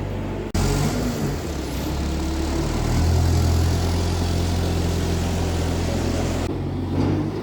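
A compact barn-cleaning machine's engine runs steadily while it empties straw from a barn, a close, loud, continuous motor drone with a brief dip near the start.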